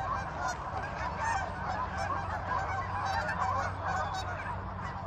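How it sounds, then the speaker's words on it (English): Thousands of Canada geese crowd a lake, a dense continuous chorus of overlapping honks from many birds at varying distances, steady and unbroken with no voices. "the Canadian geese are insane. Like, there are thousands on this lake"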